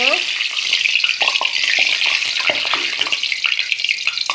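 Hot mustard oil sizzles in a pan while fish is cooked, a loud, continuous crackling hiss with dense popping, close by, with a faint voice briefly audible at the start.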